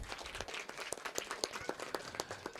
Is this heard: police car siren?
no